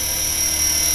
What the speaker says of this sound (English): it's an exceptionally economical helicopter, this